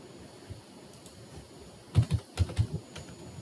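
Someone types on a computer keyboard in a quiet room, a few faint scattered taps followed by a short cluster of louder, closer keystrokes.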